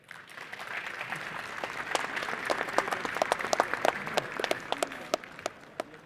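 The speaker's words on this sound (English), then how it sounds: "Guys, give them a round of applause." Audience applause at the ICON 2016 convention at Gallagher Convention Center for Lee Herrmann and Stephen Lewis, swelling from a soft start into a steady crowd clap with sharp individual claps popping out, then fading.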